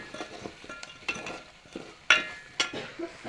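Red chili powder sautéed into a village-style mutton curry gives a soft sizzle, and a spoon strikes the pan a few sharp times while stirring, with no talk.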